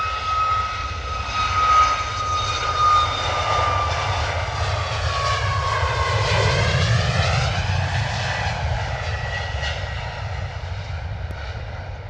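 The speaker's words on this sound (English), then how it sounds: "Engines are screaming already, full noise." A heavy Boeing 737 takes off from London Stansted Airport at full power. Its jet engines give a loud, sustained roar with whining tones that sweep as the plane passes, and no voices are heard.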